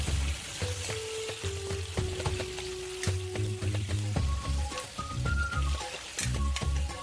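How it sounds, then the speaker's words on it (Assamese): Duck meat fries in a pan, giving a steady sizzle, with intermittent clinks and scrapes of stirring and some brief tonal ringing from the utensil; there is no talking. "হাঁহৰ মাংসখিনি অলপ সময় ভাজিব লাগিব"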